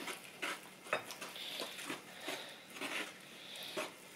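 Dough being mixed by hand with water in a bowl for a home recipe, giving soft repeated scraping and slapping strokes at a steady rhythm, close and fairly quiet, with no talking.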